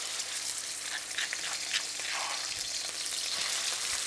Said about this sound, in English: But that initial sizzle is good.